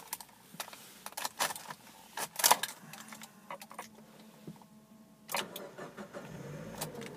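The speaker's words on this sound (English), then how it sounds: "no issue at all starting the vehicle, starts perfectly fine" A used car's engine cranks and starts, with faint key and interior clicks around it before the motor catches and settles into a steady low idle, heard up close with no talking.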